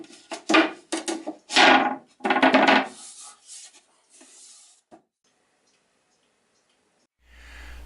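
Hand sanding of a wooden clock part: several loud, rasping back-and-forth strokes in a quick run, then softer scattered scrapes fading to quiet, with faint movement at the end.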